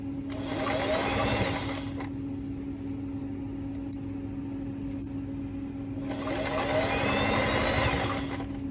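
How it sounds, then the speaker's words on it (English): A sewing machine straight-stitches an edging strip on an apron made from overalls: two bursts of loud, fast mechanical whirring a few seconds apart, separated by a steady motor hum. "So I'm just using a straight stitch, and I'm just stitching it along this edge."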